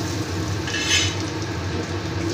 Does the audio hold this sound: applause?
no